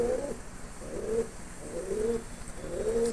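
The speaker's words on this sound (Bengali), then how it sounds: "এই যে এক জোড়া লক্ষা পায়রা আছে" Fantail (lakkha) pigeons coo in a steady rhythm, four soft, throaty phrases repeating close by, with no voices over them.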